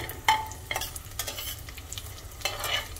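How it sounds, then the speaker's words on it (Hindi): Edible gum (gond) frying in oil in a pan over a low flame for Sindhi gond and dry fruit laddoos, with soft, steady sizzling and a few light stirring scrapes, close and fairly quiet. "थोड़ा थोड़ा सा गोंद डाल के फ्राई करेंगे। ये मैंने थोड़ी क्वांटिटी में डाला है पहले, और एकदम लो फ्लेम पर फ्राई करेंगे"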